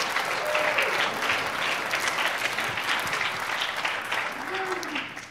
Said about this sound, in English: A round of applause for you all for